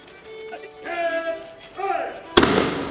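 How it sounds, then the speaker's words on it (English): A historical gun fired by a reenactor at the 1600s Jamestown fort gives a single loud, sharp blast near the end, after someone talks. "it looks like he's gonna fire a gun"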